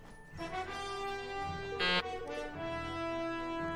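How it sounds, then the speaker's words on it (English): A strange tonal honk from a vehicle horn in Ni no Kuni II: Revenant Kingdom, a rich buzzing multi-note blare with a short bright burst in the middle, sounding alone without speech. "That was a weird-ass honk."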